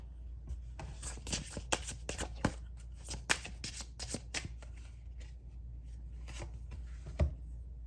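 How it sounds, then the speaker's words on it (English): Tarot cards being shuffled by hand in a quiet room, a steady run of soft riffling and flicking bursts with brief pauses, close and clear with no talking. "now I want to draw some advice cards for you"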